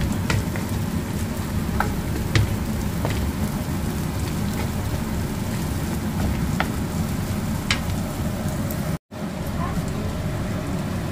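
Chopped onions fry in a pan for a pork and beef dinuguan, giving a dense, steady sizzle that runs close and loud almost throughout, broken only by a very brief dropout near the end.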